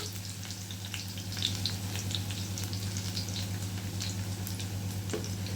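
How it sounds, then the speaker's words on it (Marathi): Plenty of garlic cloves fry in hot oil for a spicy prawn dish, giving a steady close sizzle with light crackles and pops throughout, with no talking. "तेल हे तापलेलं आहे आणि मी बघा भरपूर सारा लसूण घेतलेला आहे"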